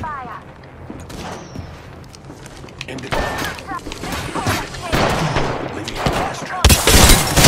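Gunfire in the video game Apex Legends crackles in bursts through a noisy game mix, growing louder and denser toward the end, while a player talks over it.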